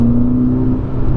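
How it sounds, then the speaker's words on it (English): Ferrari Roma fitted with a Supersprint X-pipe exhaust, its engine running in a steady, loud, close rev with a continuous low droning tone and no voices. "that is the throttle response and the exhaust noise"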